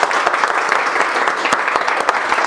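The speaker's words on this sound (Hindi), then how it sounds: "सबसे पहले एक बार ताली बजाओ खुद के लिए" An audience claps for itself, a dense, steady round of applause from a crowd that carries on evenly from start to finish with no voices over it.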